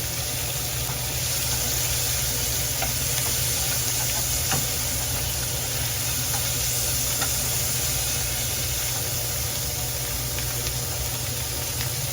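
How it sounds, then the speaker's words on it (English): Bacon renders in a pan with a steady, even sizzling hiss that holds at the same level throughout, heard up close, with no voices over it. "I've got bacon starting just to render down."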